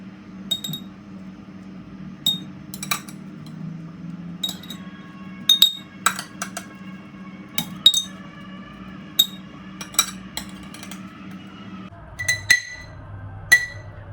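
Peppers and garlic dropped by the spoonful into a glass jar for pickling make a string of sharp, close glassy clinks at irregular intervals over a low steady hum.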